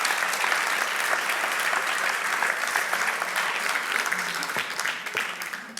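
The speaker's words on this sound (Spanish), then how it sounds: "Un aplauso, por favor." Sustained audience applause at a live talk and music event, dense clapping that holds steady throughout and eases slightly near the end.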